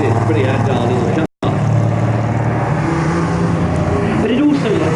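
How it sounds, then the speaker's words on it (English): A vintage Alfa Romeo 328 race car at a Nurburgring demo day drives with a loud, buzzing engine note that rises and falls, broken by one brief dropout, while someone talks over it. "As you can see, it's a pretty agile little car."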